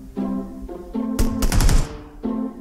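Automatic gunfire rattles in a PUBG Lite team deathmatch. Short bursts come up close, a dense rapid volley sits in the middle, and a tonal in-game hum runs between the shots.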